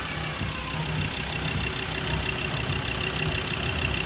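A Mazda BT-50 3.2 automatic with its catalytic converter removed idles with a steady, throbbing low engine hum and faint high whine, close and continuous.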